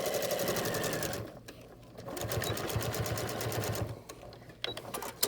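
A sewing machine top stitches a channel in a fabric face mask, running in steady rapid bursts with brief pauses and a short back stitch, close and clear with no talking.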